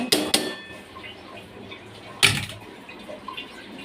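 Kachki fish drops into a metal cooking pot in a home kitchen: two quick clanks at the start and another splashy clatter midway, with faint utensil and water sounds between.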